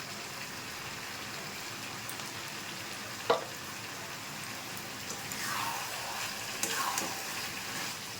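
Chicken pieces frying in a pan with salt and red chili powder while being stirred, a soft continuous sizzle broken by a few scraping stir strokes and light clinks.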